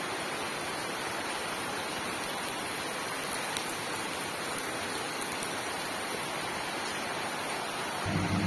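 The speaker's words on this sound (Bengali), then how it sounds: "দেখো কত বৃষ্টি হচ্ছে," Dense, heavy rain roars without a break, loud and close, a thick hiss with a low rumble beneath it.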